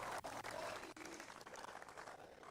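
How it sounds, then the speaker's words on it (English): Applause from a crowd at a pool match, a continuous wash of clapping that stays dense and fairly even throughout, heard at a moderate distance, with possible faint voices mixed in. "Everybody's clapping and cheering."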